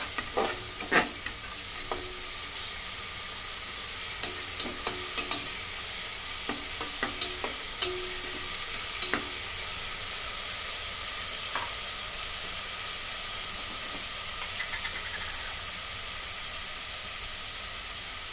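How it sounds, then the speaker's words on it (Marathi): Ginger-garlic paste sautés in a pan with onions for mutton paya soup, a continuous close sizzle broken by scattered spoon stirs and scrapes against the pan, with no talking. "आता याच्यामध्ये मी आले लसूणची पेस्ट टाकून घेते, 2 चमचे. आणि पण आता परतून घेते."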